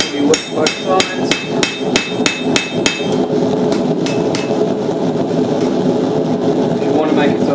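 Rapid, evenly spaced hammer blows ring out loud and close on a dark-age knife blade being forged, about a dozen sharp metallic strikes before giving way to a steady mechanical drone, with someone talking over it.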